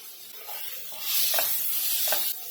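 Tomato, ginger, garlic and chili stirred in a hot pan with oil give a steady bright sizzle, with a few soft scraping strokes of a spoon as the sizzle swells midway; no talking.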